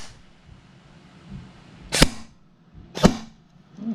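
Two sharp, crisp shots about a second apart from a Helios Knights Armament licensed SR-16E airsoft rifle on semi-auto, close and loud over a quiet room.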